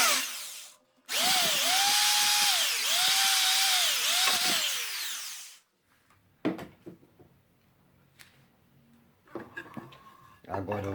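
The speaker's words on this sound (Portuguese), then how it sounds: "Eu vou começar com uma broca pequena de 4 milímetros e depois vou" A power drill with a small 4 mm bit bores a hole in wood, whining steadily for several seconds with pitch dips under load, then stops, followed by scattered handling clicks and knocks.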